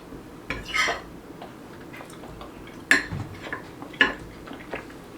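Metal cutlery clinks and scrapes against a plate while someone eats a Sloppy Joe, a few sharp distinct taps spaced apart over a quiet room background, with no talk.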